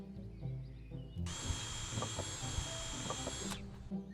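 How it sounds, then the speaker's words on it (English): A power drill whines steadily at high pitch for a couple of seconds, drilling pilot holes through wood, close by, with faint knocks and handling noise before and after. "Drill through each marking, ensuring the hole exits centrally on the opposite side."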